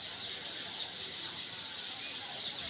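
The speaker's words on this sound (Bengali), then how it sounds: "চড়ুই পাখির এই কিচিরমিচির শব্দ।" A large flock of house sparrows chirps at Bongram market in Pabna, Bangladesh, a dense continuous high twittering wash that stays steady and fairly loud throughout with no distinct individual calls standing out.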